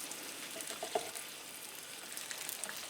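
Egg and beef fry in a pan with a faint, even, continuous sizzle and a few soft pops, heard alone at low volume.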